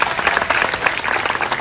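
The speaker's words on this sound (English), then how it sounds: "Please give them a big round of applause." Dense, steady applause from an audience at a sixth grade graduation ceremony, fairly loud and continuous, with no voices heard above the clapping.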